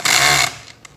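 A gyroscopic electric screwdriver backs out a tight screw from a Tesla Model 3 front body controller board, giving a close, loud half-second motor whir that stops abruptly, followed by a couple of faint clicks.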